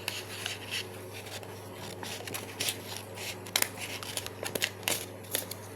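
Scissors snip through paper close by, a series of short irregular cuts and rustles with no talking.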